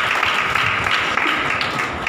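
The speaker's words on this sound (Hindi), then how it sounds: "ताली बजा के प्रभु के नाम को मुबारक करें।" A church congregation claps together to praise the Lord, a dense, steady wash of many hands sustained throughout at close range with no pause.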